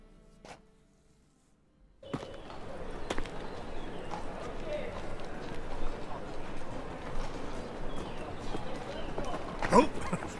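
Horse hooves in the video game Witcher 3: a steady rapid clatter of hoofbeats under game ambience, moderately loud, with a few sharper knocks and voices talking over it.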